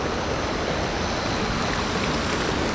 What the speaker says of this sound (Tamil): மழை பெஞ்சு நிறைய தண்ணி போகுது.